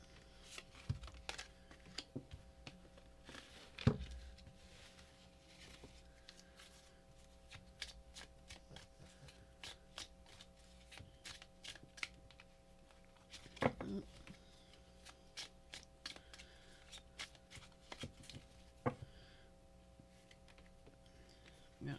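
Rapid riffling of tarot cards being shuffled, crisp repeated bursts of papery clicks close to the microphone, with a steady low hum underneath.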